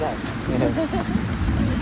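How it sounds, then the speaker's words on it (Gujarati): Steady rain falls across a village in Botad, a dense broadband patter close by throughout, with people talking over it. "વરસાદ ચાલુ થઈ ગયો છે"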